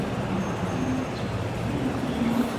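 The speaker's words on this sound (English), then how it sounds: "there's a train right there, A train over there." Train noise at Olympic Station: a steady, dense rumble and hiss with faint squeals, continuous and moderately loud throughout with no speech.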